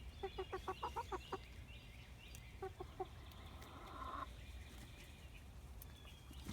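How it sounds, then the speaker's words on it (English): Full-sized backyard hens, including Easter eggers and a Cochin, clucking in a quick run of soft rhythmic calls, then a few more after a pause, fairly faint over low background rumble with no talking. "These are his ladies. They are full-sized hens."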